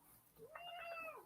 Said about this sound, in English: Sorry, you might hear my cat.